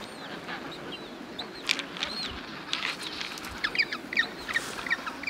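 An Antarctic penguin breeding colony calls in a dense chorus of honking, squawking cries over a steady windy hiss, with several louder calls rising near the middle and end.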